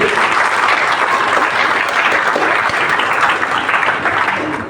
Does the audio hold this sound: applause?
yes